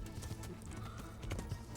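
Horse hooves galloping in Kingdom Come: Deliverance, a quick, steady clip-clop of hoofbeats at moderate distance, fairly soft, with a faint voice at times.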